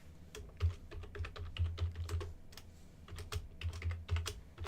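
Soft, irregular keystrokes on a computer keyboard, quiet and close, pattering in short runs over a low background hum.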